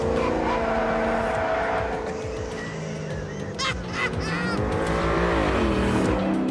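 A Savage Rivale Roadyacht GTR, a 1,250-kilogram sports car, understeers through a corner with its engine droning loudly and tyres squealing in bursts, heard close and continuous.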